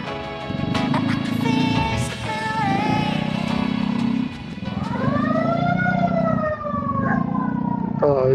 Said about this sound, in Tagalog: may bumbero pa sa likod